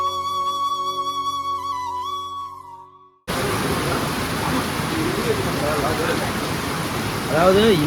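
Steady rain pours loudly and evenly, filling the last five seconds with dense hiss after an abrupt cut from a tonal musical passage.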